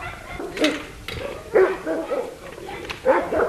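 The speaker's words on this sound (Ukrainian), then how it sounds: "Зустрів нас тільки злий пес." An angry dog at a rural home barks repeatedly in short, uneven bursts, fairly close and moderately loud, with brief pauses between barks.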